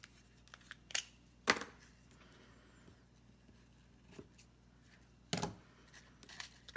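Scissors trim the ends of a ribbon bow for a handmade shaker card: a few quiet, sharp snips separated by pauses in an otherwise hushed room.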